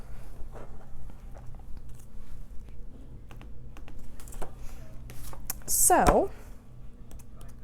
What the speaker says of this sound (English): sorry if you can hear me clicking